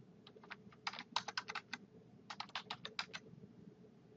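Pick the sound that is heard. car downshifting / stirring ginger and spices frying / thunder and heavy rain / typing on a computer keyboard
typing on a computer keyboard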